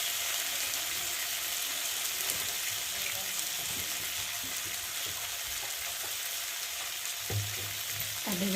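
Bitter gourd (karela) lightly frying in a pan makes a continuous, even hiss of oil with occasional soft stirring scrapes, close and steady throughout.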